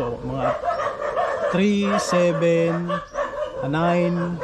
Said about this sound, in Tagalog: Maingay kasi yung aso dito sa kabilang bahay.